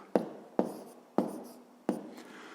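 Digits being written by hand, four distinct scratchy pen strokes at roughly half-second intervals, close and quiet with nothing else heard.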